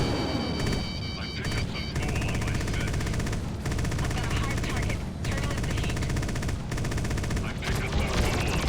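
Spaceship energy and ballistic weapons firing in a space combat video game, a dense, continuous roar of rapid shots and blasts with brief dips, while a player talks over it.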